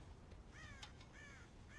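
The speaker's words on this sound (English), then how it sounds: "God damn crows!" Crows cawing on a farm in the video game Red Dead Redemption, several harsh, faint caws in quick succession over a low background hum, with no talk.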